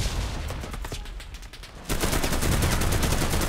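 Rapid bursts of automatic gunfire in the WWII shooter game Enlisted, set in Normandy, with a quieter stretch of shots that gives way to a dense, louder barrage of overlapping fire.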